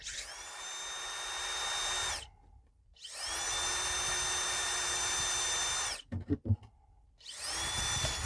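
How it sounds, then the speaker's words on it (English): A 1/4 inch power drill bores drainage holes into a clear plastic plant pot, running in three loud whining bursts with short pauses between them, with faint handling clatter in one gap. "I'm using about a 1/4 inch drill."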